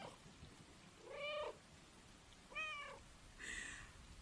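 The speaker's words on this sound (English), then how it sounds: "Can y'all hear the purring?" A cat in a video game meows three times in a row, each call clear and close with short pauses between, over a faint background hum.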